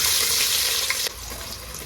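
Chopped onions hitting hot oil with spices for chicken biryani, a loud dense sizzle that drops and settles into steady frying after a sharp change partway through; no one talks.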